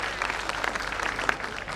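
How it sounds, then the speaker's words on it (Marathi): An audience at a mayor's award ceremony claps together in a brief burst of steady, fairly loud applause, with no talking over it. "टाळ्यांचा जोरदार गजर करूया."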